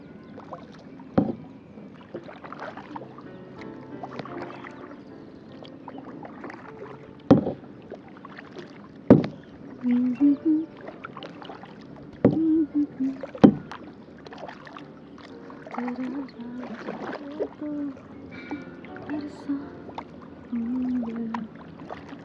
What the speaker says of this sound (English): You just have to row.